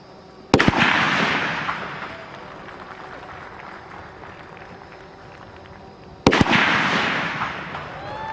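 Two sharp SVD sniper rifle shots crack out several seconds apart at a 300 m shooting competition, each loud report followed by a long rolling echo.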